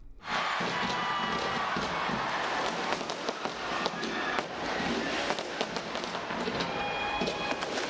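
New Year fireworks over Sydney Harbour crackle and pop continuously, a dense distant barrage of bursts and fizzing with occasional whistles, loud and unbroken throughout.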